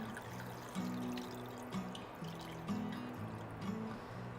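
Faint trickling and dripping of water being poured into a pot, steady and quiet, under a low, wavering hum.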